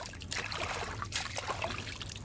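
Water trickles and splashes in a steady, close stream during washing, a continuous bright rush with small fluctuations and no clear speech over it.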